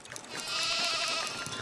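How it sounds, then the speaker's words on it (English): Baby sheep bleating in the village-building game Foundation, a single drawn-out, wavering bleat heard clearly and close for a moment over a faint game background. "Baby sheep."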